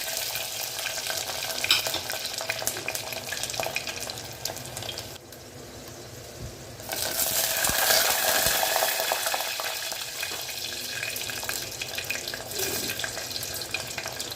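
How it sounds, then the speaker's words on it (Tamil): Garlic cloves with cumin and fenugreek seeds frying in a pan for a mango curry, producing a moderate continuous sizzle with stirring and a brief quieter gap partway through, with no speech. "பூண்டு வதங்கட்டும்."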